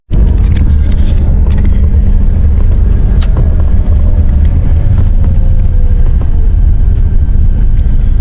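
A bus in Turkey arrives at the stop with a loud, continuous low engine rumble close by, steady throughout with faint higher rattles and hiss layered over it.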